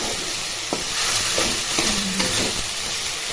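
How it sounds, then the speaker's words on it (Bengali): Spiced masala sautéing in oil in a pan, with the oil separating during preparation of a cauliflower dish: a steady close sizzle with occasional scraping strokes of a spoon, no talking. "খুব সুন্দরভাবে মা কষিয়ে নিচ্ছে মশলাটা। তেল ছেড়ে গেছে"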